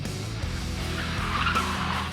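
A Renault Megane RS lapping a race track, its engine droning loud and steady while the tyres squeal and skid across the whole short stretch.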